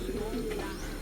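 Tippler pigeons cooing close by in a low, steady throaty murmur through a brief moment.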